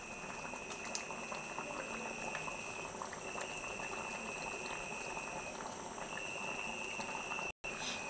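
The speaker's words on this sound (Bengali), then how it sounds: "এবার আমি কিছুক্ষণ ফুটতে দেব।" A pot of vegetarian fig curry bubbles steadily on the stove, giving a continuous, even boil with a faint hiss and small pops. The sound holds at a moderate level throughout, with no talking and one brief dropout near the end.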